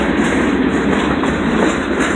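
A PORU freight train from Portland to Rumford, Maine rolls past close by with Norfolk Southern coal hoppers, giving a loud continuous rumble of wheels with rhythmic clickety-clack over the rails and no voices.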